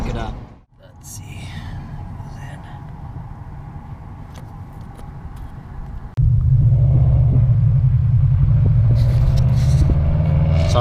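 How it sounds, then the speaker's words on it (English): A Subaru engine rumbles nearby, a low steady drone that turns suddenly louder and heavier halfway through, while someone talks over it. "Sorry about the Subaru in the background."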